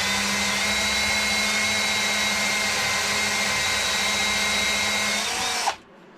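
Power drill tapping a hole in metal for Allen head cap bolts, a loud steady whine that runs continuously and then cuts off abruptly near the end, with no speech.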